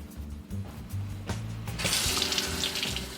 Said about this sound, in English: Just turn on the water